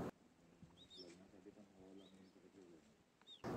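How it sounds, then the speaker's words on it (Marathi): Faint bird calls in a quiet setting at Bhandardara near Nashik: a few brief high chirps scattered over soft, low cooing. "आणि पक्ष्यांचा किलबिलाट सुद्धा ऐकू येते."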